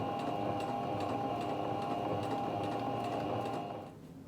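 A sewing machine runs a seam along the top of a fabric bag with a fast, even mechanical whir and chatter, close and steady, then stops just before the end.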